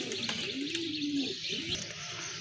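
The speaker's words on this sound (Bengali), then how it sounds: "আরেক জোড়া কবুতর মাশাল্লাহ খুবই সুন্দর" A pair of Rajshahi Giribaz pigeons coo softly at close range, one drawn-out low coo standing out over a hissy background of other birds and faint ambient noise.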